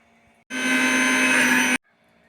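A kitchen mixer grinding curry ingredients with coriander leaves whines loudly in a single steady burst of just over a second, with near silence before and after.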